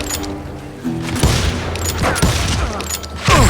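A gunfight in the video game Call of Juarez: Gunslinger, with rapid overlapping gunshots and booming reports. Shots come in a loud, close burst that grows heavier toward the end.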